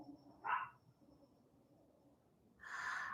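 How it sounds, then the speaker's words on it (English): Faint canine calls drift in from outside in the countryside, probably coyotes or dogs: a short yelp early on, then a longer drawn-out howling cry near the end, both distant against a quiet background. "I think it's coyotes howling."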